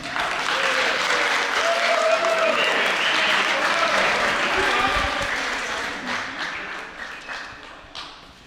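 A crowd applauds loudly and steadily, then the clapping gradually fades away toward the end.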